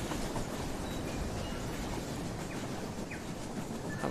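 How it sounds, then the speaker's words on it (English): Steady rumbling clatter of a model locomotive, number 464, speeding along the track in the VR train game Rolling Line, the noise held at an even, fairly loud level throughout. "Have a quick look at this loco as it comes flying past"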